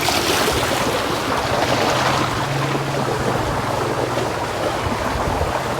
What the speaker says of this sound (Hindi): और ये शोर जो है ना पानी का,